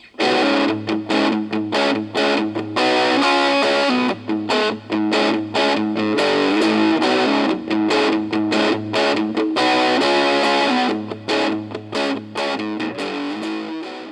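Heavily distorted 3D-printed electric guitar chugs through a rhythmic rock riff, dense and loud, with choppy palm-muted stops between gritty power chords.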